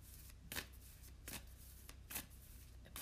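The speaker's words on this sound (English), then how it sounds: "I'm shuffling the soul flower deck." A soul flower oracle card deck being shuffled, with four quiet, crisp riffling bursts spaced roughly evenly apart over a faint, soft background.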